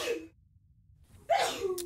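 A single close sneeze: a quick sharp intake, a brief pause, then a forceful burst of breath.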